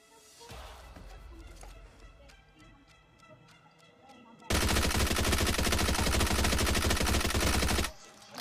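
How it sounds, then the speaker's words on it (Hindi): A long, dense automatic gunfire spray of about 53 rounds in the BGMI battle royale shooter, loud and rapid, bursting in after quieter gameplay sounds with scattered ticks and small noises. "53 गोली का फ्री फायर आराम से दिया मैंने, फ्री फायर देते साथ बंदा ख़त्म हो गया"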